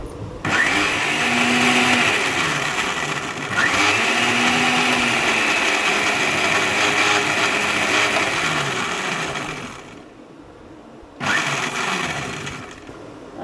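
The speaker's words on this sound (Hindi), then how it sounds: "पहले इनको ब्लेंड करेंगे।" An electric blender whirs loudly and steadily blending yogurt and onion, running in long bursts with a short pause near the end before starting up again.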